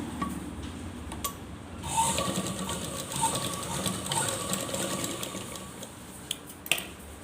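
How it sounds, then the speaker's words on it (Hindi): A sewing machine runs close up, stitching the edge of a small Laddu Gopal deity dress, with a steady mechanical whir and a few sharp clicks near the end. "ये देखिए यहाँ पे हमें किनारे पे सिलाई लगा देना है"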